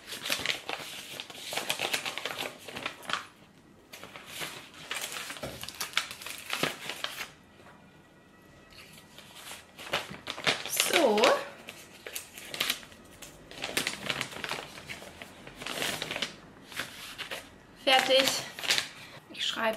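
An Etsy order is packed into an envelope, with paper crinkling, rustling and shuffling close by in uneven bursts, and someone speaking German in between.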